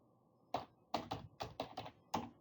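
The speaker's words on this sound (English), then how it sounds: "I'm not known for my typing skills, I'll admit." Keystrokes on a computer keyboard while entering account names in church accounting software, seven distinct clacks in irregular clusters, close and fairly loud against a quiet room.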